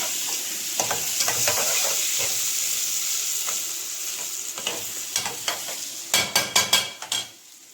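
Ghee and a little oil sizzle in a pot, a steady close hiss carrying scattered stirring scrapes that turn into a quick run of loud knocks near the end.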